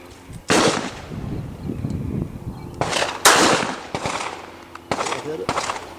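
Gunshots from a .32 caliber handgun at a shooting range: several sharp, loud reports at irregular intervals with short echoing tails, and quiet speech in between.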